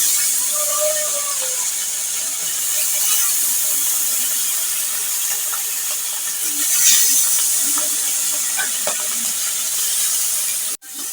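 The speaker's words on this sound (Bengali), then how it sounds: "এখন মাখানো মাছগুলো ভেজে নেব।" Fish pieces fry in hot oil in a wok, giving a steady, fairly loud broadband sizzle and hiss that continues throughout with occasional faint clinks of cookware.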